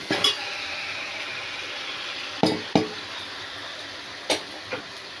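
Fish pieces sliding into hot oil in a wide pan, a steady broad sizzle running throughout, with a few sharper clinks and splatter bursts standing out near the close.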